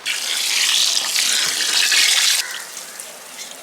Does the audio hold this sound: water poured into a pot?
yes